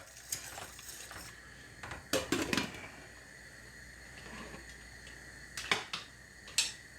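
Rice stirred in a cooking pot, mostly quiet scraping and soft clicking against a low background, with a few louder rattling bursts from the spoon against the pot.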